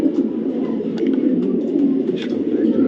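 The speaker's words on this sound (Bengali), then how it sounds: "হোয়াইট কালারের ব্লু চেকার একটা নর কবুতর" A male racing pigeon, a white blue-checker cock bird in moult, coos in a low, steady rolling murmur throughout, close by with no other sounds intruding.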